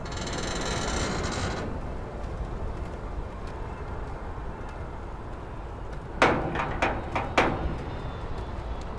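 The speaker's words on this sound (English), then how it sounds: "Grinding metal." Metallic grinding and creaking mechanism noises in Starfield: a rough sustained scrape at first, then a cluster of sharp clanking, ratcheting hits near the end, over a low ambient hum.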